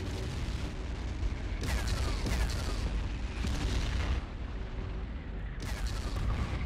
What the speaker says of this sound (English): Shots coming in from far away from TL as they move into the city for covering fire